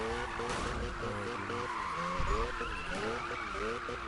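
Tires squeal as Nissan Skyline race cars skid in a racing video game, a continuous loud screech with a wavering pitch over engine roar, heard under a speaking voice.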